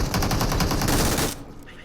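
Rapid automatic gunfire in the battle royale game PUBG, a loud close burst of repeated shots lasting over a second before cutting off abruptly into near silence.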